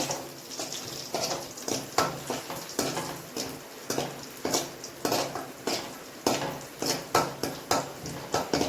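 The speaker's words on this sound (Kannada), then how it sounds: "ಸ್ವಲ್ಪ ಫ್ರೈ ಮಾಡುವ ನಾವು" Food frying in a pan while being stirred, a soft sizzle underneath repeated clacks of a utensil scraping and tapping the pan in an irregular rhythm, close and clear.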